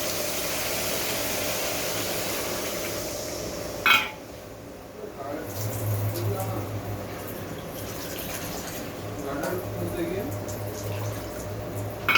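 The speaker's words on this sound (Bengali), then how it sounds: "এখন আমি এর মধ্যে ঝোল দিয়ে দিব।" Broth poured into a mustard hilsa fish curry in a pan, a steady wet rushing and bubbling under a low kitchen hum, with a brief clatter of a utensil and a person talking nearby.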